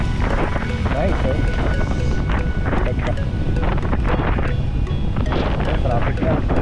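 Strong wind buffets the microphone on a moving ride along Commonwealth toward Fairview, a constant loud rumble with gusty roaring, while a person talks throughout.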